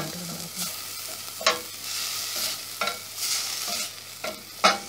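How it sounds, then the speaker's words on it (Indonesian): A pan of chili bean sambal sautéing, with a steady sizzle of frying and repeated spatula scrapes and clinks at intervals, close and moderately loud, with no voices. "so like that saute until it's good"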